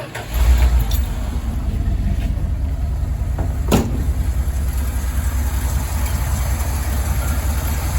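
A 360 V8 engine fitted with a swapped spread-bore Holley four-barrel carburetor fires up and idles steadily with a low, even rumble, close and continuous, with a sharp click partway.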